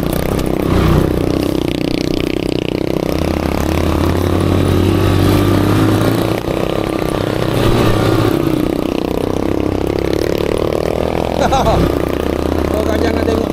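A motorcycle ridden slowly along a rural road under construction, the engine droning and revving steadily throughout at close range with some rattling, while someone talks over it.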